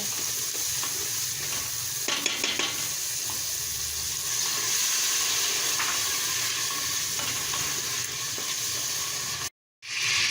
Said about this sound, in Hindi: 2 से 3 मिनट हमने मसाला भुना है।